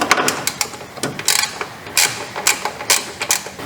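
Metal tool clicks and ratchets in short bursts while undoing the starter motor nut on a Mazda MX5 1.6 engine, uneven rapid clicking close up with no talk.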